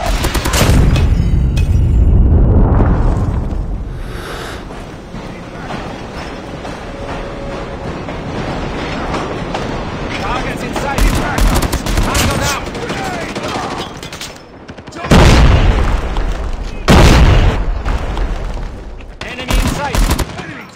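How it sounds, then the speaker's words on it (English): Explosions and heavy gunfire from a Call of Duty Mobile 10v10 team deathmatch, with loud booms near the start and around the fifteen- and seventeen-second marks, including a predator missile strike, over dense continuous battle noise. "Hostile predator missile inbound."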